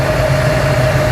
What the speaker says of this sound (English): Well, here we go. I've got it idling.